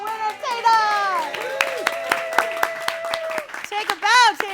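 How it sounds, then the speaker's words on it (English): A crowd at a music make-a-thon claps for the contest winner, sharp scattered claps under excited cheering and children's voices, with people shouting and talking over the applause. "Let's hear a round of applause for our winner, Tata!"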